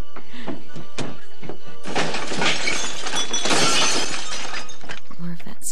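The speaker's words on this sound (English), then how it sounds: "More of that super cool breakaway glass." Breakaway prop glass shatters in a slasher film scene, a loud crashing burst of breaking shards with a long tinkling tail, preceded by softer thumps and followed by a brief low sound near the end.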